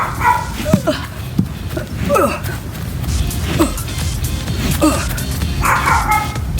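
Dogs bark and yip repeatedly near a tennis court during a workout, with short irregular barks and whimpers spread across the stretch, loud and close, while people talk nearby.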